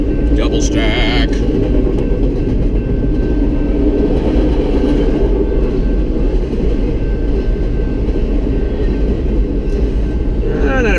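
A short double-stack BNSF freight train rolls past close by on the Needles Subdivision near Ludlow, a loud continuous rumble of wheels and cars throughout, with a brief squeal near the start.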